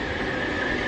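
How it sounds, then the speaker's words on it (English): A train rumbles past close by at a two-platform Merseyrail station, a steady heavy roar with a faint metallic whine riding on top. "there's a train."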